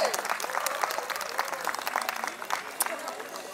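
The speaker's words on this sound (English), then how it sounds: "Can we have a huge round of applause for the bride and the groom?" An audience at a wedding applauds the bride and groom, a continuous, lively round of clapping that stays even throughout, with a few crowd voices mixed faintly beneath.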